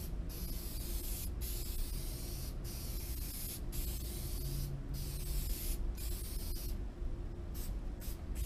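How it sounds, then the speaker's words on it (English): Steady, loud hiss of spray adhesive being applied to a pool table during re-covering, continuous with several brief pauses where the nozzle stops. "I like to spray this end real well because that's where the little pulls are going to be for the pockets."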